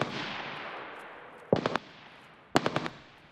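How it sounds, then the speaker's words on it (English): Two quick bursts of rifle fire from an M4A1 in the shooter game Escape From Tarkov, each a tight volley of three or four cracks about a second apart, following a fading whoosh of ambient noise. "He's getting shot at."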